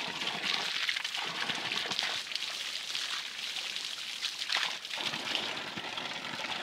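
Spring water from a healing spring in a St Lucia backyard splashes and sloshes continuously, a steady broadband wash of water with brief dips, close and moderately loud, with no talking.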